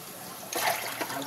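Water starts running into a bucket partway through, a sudden gush that rises out of near quiet and carries on as a close, bright, splashing stream.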